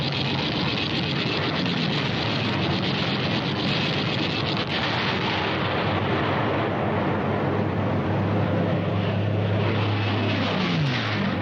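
American B-25 bombers fly low at treetop level in archival war footage, a steady, loud broadband engine roar with wind-like rush that holds for about eleven seconds, no voices.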